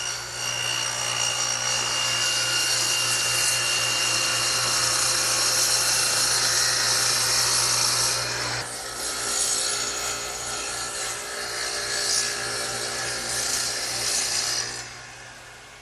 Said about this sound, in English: I've set the radial arm up to do just that